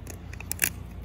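Scissors snip through the spine of a cleaned garfish, giving two or three sharp, close crunching clicks over a low background hum.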